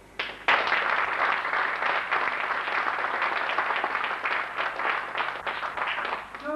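An audience at an evening book presentation breaks into applause after a sudden start, a dense, even wash of many hands clapping that carries on for several seconds before beginning to thin.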